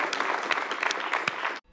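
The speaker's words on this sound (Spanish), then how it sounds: "Aplausos." A studio audience on a televised debate program applauds steadily, a dense wash of claps at moderate level that cuts off abruptly near the end.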